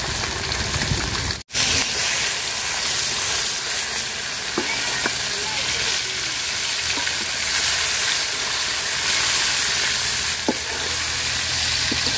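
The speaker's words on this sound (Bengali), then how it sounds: "তেল গরম হয়ে গেছে, মাছ দিয়ে দিলাম।" Pond fish fry in hot oil in a pot, making a loud, steady sizzle and hiss that runs throughout, broken by a brief dropout near the start and a few faint clicks, with no talk.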